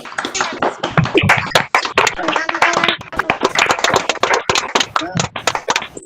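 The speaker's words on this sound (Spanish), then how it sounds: "a gente bater umas palmas para o professor Sérgio" Scattered hand clapping from several people with open microphones in an online academic colloquium, a loose burst of uneven claps mixed with overlapping voices.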